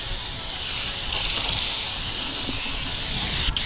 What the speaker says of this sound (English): And the only thing you gotta do is just spray them on.